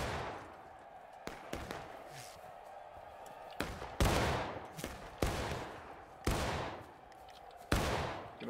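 Infantry volleys from massed muskets in a Civil War video game, crackling in several sharp, ragged bursts with long echoing tails, each followed by a lull of distant shots.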